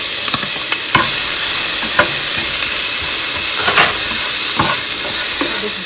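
Ginger, garlic and onion sizzle loudly in hot oil, with a constant frying hiss and occasional scraping stirs, close up and without speech.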